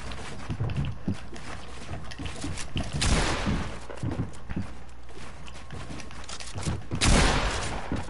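Dense rapid gunfire from a video game fight rattles continuously throughout, with heavier bursts of shots swelling around the middle and near the end, loud and unbroken, with no talk.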